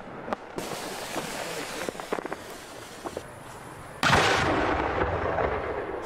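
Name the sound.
firework shell exploding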